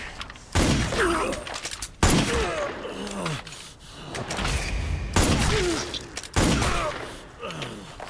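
Metal Gear Solid video game gunfire: four heavy, close shots spaced about 1.5 seconds apart, each a sharp blast with ringing decay, mixed with groans of pain between them.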